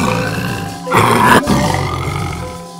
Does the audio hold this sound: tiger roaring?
yes